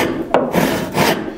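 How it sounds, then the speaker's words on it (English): A crosscut hand saw with widely set teeth rips through wood in two or three coarse, rasping strokes, close and loud with no talk. "I'm going to start making a cut with this saw."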